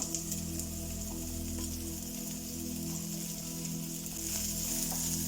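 Onions frying in hot oil for a Kerala white chilly milk curry, a steady loud sizzle running unbroken throughout with a faint constant hum beneath.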